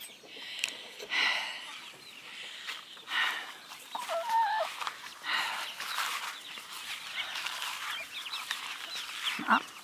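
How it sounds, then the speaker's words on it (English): Chickens and chicks cluck repeatedly nearby, with scattered short calls and rustling outdoors; no talking. "a lot of the chicks are out."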